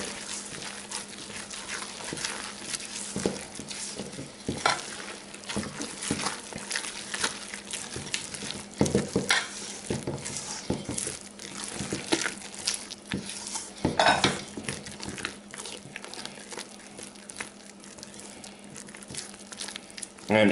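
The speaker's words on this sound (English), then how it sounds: "Toss in your carrots with the spatula." Grated carrots are folded into carrot cake batter with a spatula, giving continuous wet scraping and light clicks against the bowl. The sound is close, moderately quiet and without talk.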